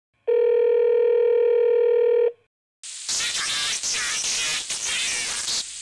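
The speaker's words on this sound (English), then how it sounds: "Let me make a phone call." A steady telephone dial tone holds for about two seconds and then cuts off, followed after a brief gap by a loud, dense burst of hissing, crackling noise, likely line static or the call connecting.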